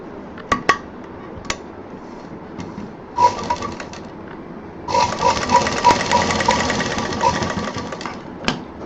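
A sewing machine stitches fabric along a cut mark for thalpos. Short bursts of rapid, rattling needle strokes come first, then a longer steady run, with a few sharp clicks between bursts.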